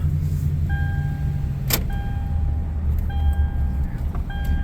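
A car with an automatic transmission of unknown service history driving in gear, a steady low engine and road drone with a couple of faint shift changes, chimes and a brief click, heard from inside the cabin with no talk.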